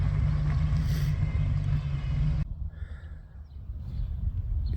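A Ford F100 truck towing a trailer on a test drive produces a loud, steady engine drone with low rumble, then drops to quieter road and wind noise as it moves away.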